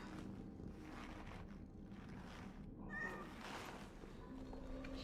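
A cat meows in the video game Cronos: The New Dawn, with a short meow heard over a steady, low ambient drone.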